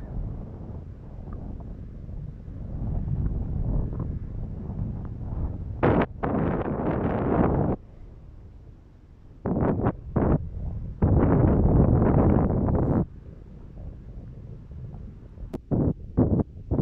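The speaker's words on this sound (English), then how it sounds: "windy." Strong wind buffets a microphone on a village road among longhorn cattle, roaring in loud gusts that rise and drop over the whole stretch, with no talk.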